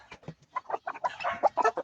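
A Rhode Island Red chicken clucks in a rapid series of short, close calls, irregular in rhythm and rising toward the end, heard alone without any human voice.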